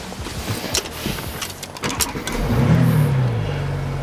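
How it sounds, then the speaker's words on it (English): A new BMW X6 starts up, with a brief cranking burst giving way to a steady, close engine idle hum that settles in after a few seconds of quieter mechanical clicks and handling noise. "Vehicle's all fired up."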